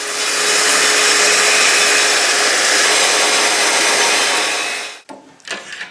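A circular saw running along a guide rail rips through a wooden mobile bench frame, a loud steady buzzing cut lasting about five seconds before stopping abruptly, followed by brief faint clatter.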